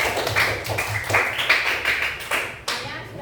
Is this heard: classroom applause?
yes